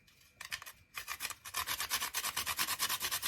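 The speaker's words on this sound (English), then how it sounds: "I'm gonna grate my nutmeg" Whole nutmeg is scraped against a grater in a kitchen while preparing fried doughnut dough, with scattered strokes at first that settle into a quick, even rasping rhythm close by, with no talk.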